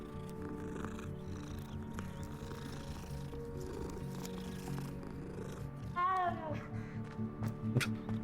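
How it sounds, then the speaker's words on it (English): A cat in the Hogwarts Legacy video game purrs steadily in the background, then gives a clear, close meow near the end over a low game ambience. "That's an interesting meow."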